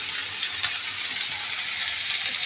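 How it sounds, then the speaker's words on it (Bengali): Bitter gourd frying in a pan, a steady, dense sizzle of hot oil that holds even and close throughout with no voices over it. "তিতা করলা দিন একটু ভালো করে ফ্রাই করে দিই"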